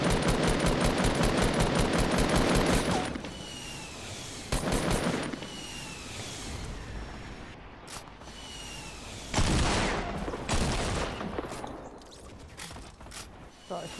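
Automatic gunfire in the video game Fortnite during a 50 vs 50 match: a fast, steady burst of rapid shots for about three seconds, then scattered louder single shots and short volleys over background game noise.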